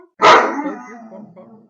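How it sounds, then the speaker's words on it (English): A dog lets out a single loud, close bark that tails off into a short whimpering whine indoors. "Oh, we don't bark at our friends."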